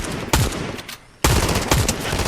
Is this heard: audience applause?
no